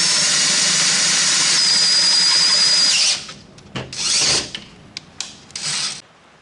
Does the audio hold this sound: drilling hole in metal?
yes